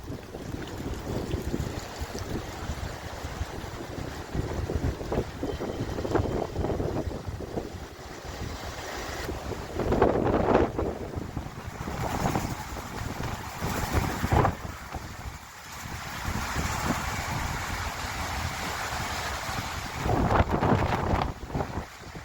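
Strong wind roars and buffets the microphone without a break during a rainstorm in Baku, a loud low rumble with gusts that swell now and then.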